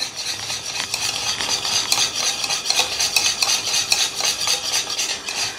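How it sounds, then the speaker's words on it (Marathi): Room-temperature ghee being whisked in a bowl for jowar flour jaggery nankhatai, a brisk, continuous scraping and tapping of the whisk in a quick, even rhythm, close and clear with no talking. "आता हे तूप थोडंसं मी फेटून घेतलं"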